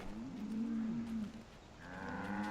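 Cows moo in the video game Assassin's Creed III, two or three drawn-out lowing calls close by, one after another with no talk over them.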